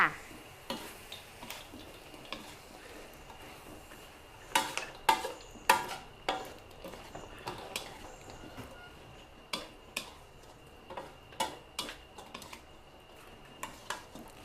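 Crispy pork cracklings tossed with curry paste and shredded kaffir lime leaves in a pan over very low heat, giving scattered crunchy scrapes and clinks of a utensil against the pan, quiet and close, with no talking.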